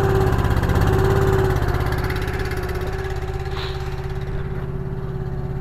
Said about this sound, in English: This engine here. Turn on the gas. Hit the choke. Fires right up.